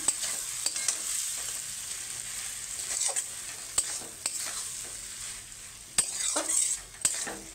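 Papaya and shrimp dropped into a hot pan for a papaya curry, sizzling steadily as a utensil scrapes and stirs in irregular strokes, close and moderately loud with no talking.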